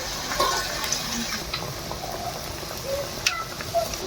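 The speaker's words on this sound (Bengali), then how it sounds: "একটু পানি দিব।" A little water hits a spice paste of cumin, chili, coriander and turmeric frying in a pan, raising a steady close hiss and sizzle with faint bubbling and a few small clicks.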